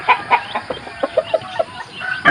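A fighting rooster, a gamecock, clucks in a series of sharp, close calls at an uneven pace, loud and clear over a faint outdoor background.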